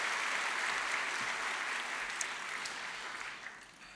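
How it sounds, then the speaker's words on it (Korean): Church congregation applauding at a Sunday worship service, a dense, steady wash of clapping that fades slightly toward the end, with no speech over it. "큰 박수로 네 분의 교육자님 축복합니다."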